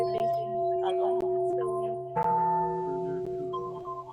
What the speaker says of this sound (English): This was the best bell ringing ever.